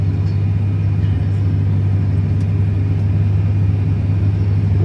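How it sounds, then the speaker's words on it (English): A farm truck idles and drives during a potato harvest, its engine a loud, steady low rumble that continues unbroken throughout with no voices. "This is actually my sister driving this truck."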